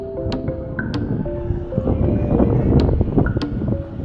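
Chilly wind blows outdoors in Byumba, Rwanda, a steady gusty rush buffeting the microphone, with a few faint higher chirps over it.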